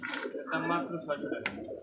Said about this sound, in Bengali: দেখতে পাচ্ছেন চমৎকার একজোড়া ইন্ডিয়ান একজোড়া কাগজি কবুতর